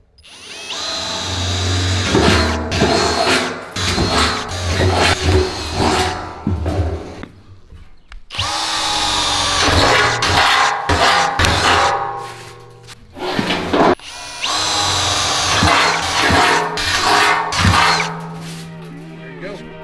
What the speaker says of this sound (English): So we're ready to drill.